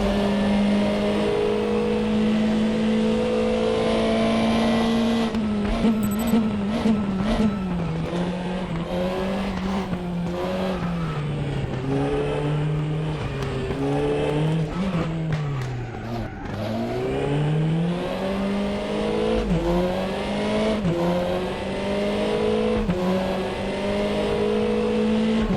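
Race car engine in Raceroom Racing Experience played with a controller, a continuous loud engine drone rising and falling through gear changes and braking, with sharp shift clicks and brief tire squeal.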